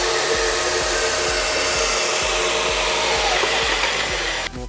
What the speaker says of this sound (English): Now we'll test the angle cutting of this.